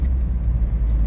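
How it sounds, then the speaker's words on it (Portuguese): A 2005 Volkswagen Paraty with a 1.8 AP engine and high mileage, heard from inside while riding, a loud steady low engine hum and road rumble over the short span. "hoje eu estou a bordo da Paraty, Volkswagen Paraty 2005"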